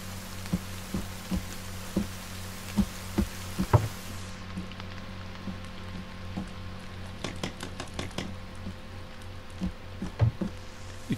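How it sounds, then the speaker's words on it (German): Rain falls in The Forest video game as a soft, steady patter with scattered sharper drops and crackles throughout, fairly quiet, with no voices. "Und es regnet schon wieder."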